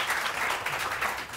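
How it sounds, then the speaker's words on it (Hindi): A studio audience on a morning TV show claps in a steady, dense burst of applause that runs through the whole short moment without any talking. "आरिफ साहब के लिए बहुत सारी तालियां"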